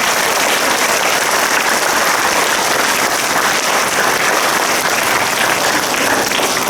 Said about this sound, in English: Give them one big warm round of applause